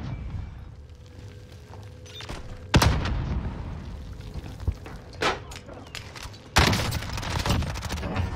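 Warzone gameplay with sharp explosion bursts and rattling gunfire against a rumbling battlefield background, with two loud blasts standing out among scattered distant shots.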